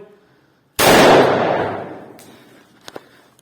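A single loud gunshot from a gun fitted with a 3D-printed magazine cracks sharply, then its echo slowly decays, followed by a couple of faint clicks of handling.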